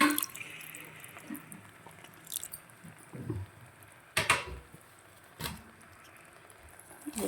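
Tamarind juice poured into a tomato and drumstick gravy, giving quiet liquid trickles and drips with a few brief sharper splashes and clinks, fairly close, with no talking.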